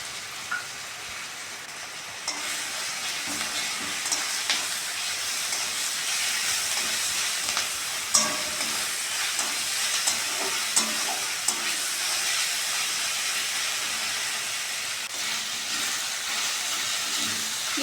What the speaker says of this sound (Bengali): পেঁয়াজের সঙ্গে আদা রসুনটা ভালো করে ভেজে নিয়েছি